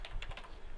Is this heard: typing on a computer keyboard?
yes